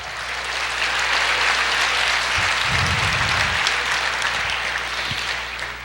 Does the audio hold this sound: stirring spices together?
no